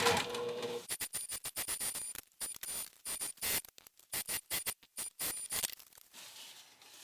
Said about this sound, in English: I'm just lifting the flap up and top stitching underneath it so that I do not top stitch it